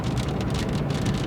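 Steady rain pours down, a dense continuous hiss of drops pattering on surfaces, loud and unbroken, with no voices.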